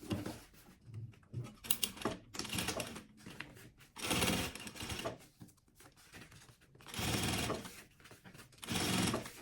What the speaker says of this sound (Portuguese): vou fazer a nossa costurinha